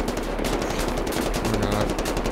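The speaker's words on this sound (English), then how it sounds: "Give me that dual shotty." A dual-wielded shotgun pair blasting away in Wolfenstein The New Order, a loud, continuous barrage of fast overlapping gunshots with no breaks and no talking.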